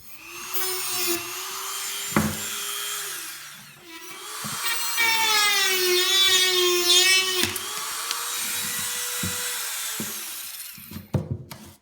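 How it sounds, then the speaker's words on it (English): A rotary tool with a cutoff disc grinding through the screw heads of an airsoft pistol, a loud high whining whir that rises and falls over several cuts, separated by brief pauses and small clicks and clatters, close up. "you never put your face in the line of fire when using these cutoff discs"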